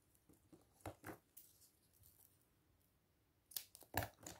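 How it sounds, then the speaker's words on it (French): Small scissors snipping during a craft session, a few sharp isolated cuts and rustles, quiet and close, with a louder cluster of snips near the end. "Ciseaux. Les petits ciseaux."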